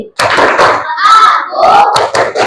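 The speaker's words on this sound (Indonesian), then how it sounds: "Tepuk konsentrasi." A classroom of students performs the concentration clap, with rhythmic bursts of group clapping and voices shouting together, close and loud.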